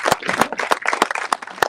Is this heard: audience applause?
yes